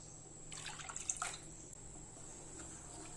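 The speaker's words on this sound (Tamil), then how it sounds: "இப்போ இதில் தண்ணி சேர்த்துக்கலாம்." About two cups of water are poured into a cooking pan of sautéed vegetables for rava kichadi, a short soft splash and trickle in the first second, then a quiet, faint background.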